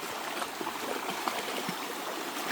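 Water from a pond rushes steadily down during Typhoon Carina in Gabaldon, a continuous close gushing flow with no voices.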